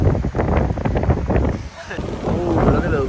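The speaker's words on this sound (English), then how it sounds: "Many waves. It's so windy." Strong wind buffets the microphone at a beach while waves roar and wash in steadily, a dense, loud rumble throughout.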